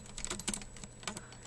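A computer keyboard key is pressed over and over, giving a quick string of soft, close clicks at a steady, fast rhythm, faint and with no talk.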